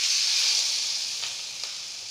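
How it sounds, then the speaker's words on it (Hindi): Battered bottle gourd slices sizzle on a hot tawa, giving a steady bright hiss that fades slightly over time, close and alone. "अब मैं इसमें एक एक लौकी के स्लाइसेस को तावा पर डालूंगी।"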